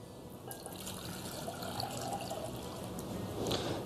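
Half a litre of water poured out for pretzel dough, a steady close splashing trickle that runs on without a break and swells slightly near the end, with no voices over it.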